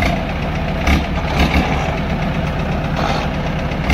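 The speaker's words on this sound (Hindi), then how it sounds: "ये पूरे जोर लगा रहे हैं अपने ट्रैक्टर से, इनका ट्रैक्टर बिल्कुल भी नहीं चल पा रहा आगे को।" A John Deere tractor engine labours under heavy load, unable to pull forward, with a loud, steady, rough mid-range drone and knocking throb that holds throughout with no talk.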